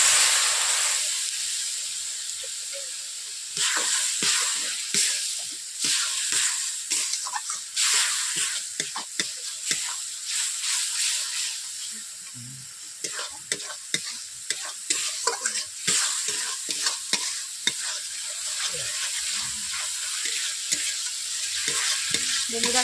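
Spices with turmeric powder and a splash of water are stirred on low heat in a pan for a cauliflower and egg curry, with repeated scraping spatula strokes over a soft steady sizzle and hiss.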